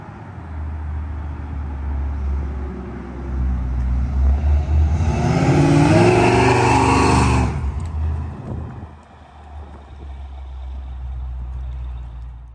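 A 1969 Cougar coupe with a noted tire rub drives along, its steady low engine rumble running throughout and swelling into a louder, broader rush of engine and road noise midway before settling back to a constant drone, with no talking.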